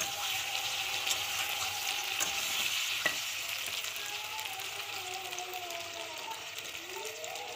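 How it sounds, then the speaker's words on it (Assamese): Ridge gourd fries in hot oil in a pan, giving a steady, rain-like sizzle, with occasional scrapes and clicks of a spoon stirring it, close and continuous. "এতিয়া অকণমান সময় এনেকৈ লৰাব লাগিব, কাৰণ জিকাখিনি ভিতৰত তেলটো সোমাব লাগিব।"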